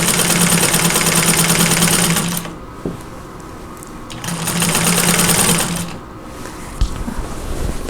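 A vintage 1947 Singer 15-90 sewing machine quilting, running in two loud, steady bursts of rapid mechanical stitching separated by quiet pauses with a few small clicks and knocks.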